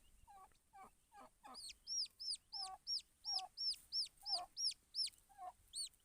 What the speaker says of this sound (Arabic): ها هو كتكوت.